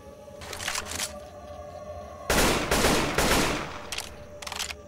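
An AK rifle fires in Left 4 Dead 2. Short bursts come first, then a louder, sustained run of rapid automatic shots, followed by a few quick trailing bursts.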